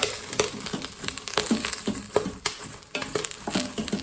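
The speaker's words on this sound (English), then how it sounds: "Stir." Spicy popcorn stirred in an Instant Pot, a spoon scraping and clacking against the pot with irregular sharp taps over a soft background sizzle, close and moderately loud.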